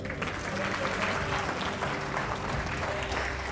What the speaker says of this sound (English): you can clap a little bit harder for me